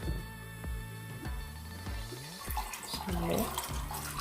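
A little more water poured over chickpeas in a pot, a steady soft running splash with a few light knocks, fairly quiet and close.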